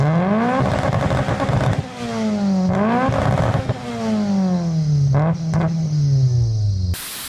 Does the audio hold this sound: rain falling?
no